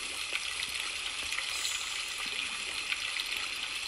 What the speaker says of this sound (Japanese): いやー、このね、お風呂のお水の音ね、